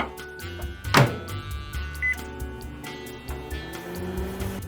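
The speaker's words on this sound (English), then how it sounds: "if you heat up a piece of pizza in the microwave" Steady hum of a running microwave oven heating a slice of pizza, with a short electronic beep partway through, fairly close and continuous.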